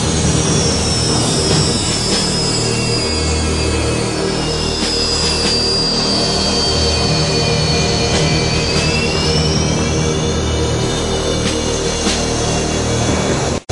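A Su-30 MKI Sukhoi fighter jet taxis out of a hangar, its engines roaring loud and close with a steady high whine that slowly shifts in pitch throughout, no voices present.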